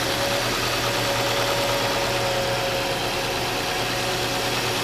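A 2009 Ford Fusion with a 2.3 liter engine idles while still cold, a steady, even, close mechanical hum with a faint whine and no revving, heard alone without voices.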